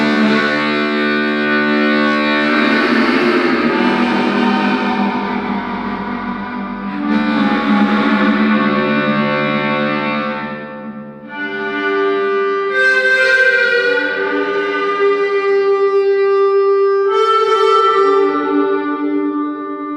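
Harmonica played through an Old Blood Noise Endeavors MAW pedal set to a larger reverb, sustained wailing chords and bends with long washy tails blending into one another, loud and continuous with no talking.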